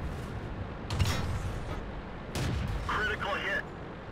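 Tank guns boom in a World of Tanks battle, a few heavy low thuds spaced out over steady game background noise.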